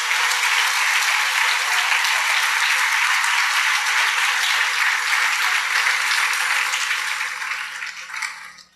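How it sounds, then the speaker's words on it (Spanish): A church congregation claps loudly and continuously in praise during a sermon, a dense, even wash of applause that tapers off in the final seconds. "Denle un aplauso al Rey bendito"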